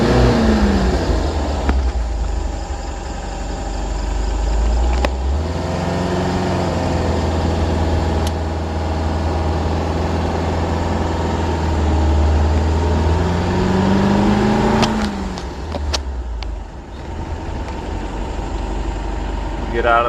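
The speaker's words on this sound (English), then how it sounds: "you can have a listen to the engine here" A Porsche 914 with a 1.8 L engine idles steadily up close, a low continuous rumble with a few brief clicks and thumps and slight shifts in tone partway through.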